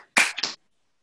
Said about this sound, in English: 2 claps on 3, and y'all have a wonderful day.